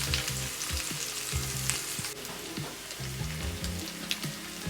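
Ham steaks fry in a pan with a steady, close hiss and crackle, punctuated by occasional louder spits and pops throughout.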